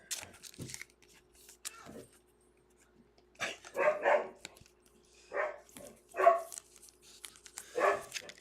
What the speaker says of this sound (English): This dog's out of control.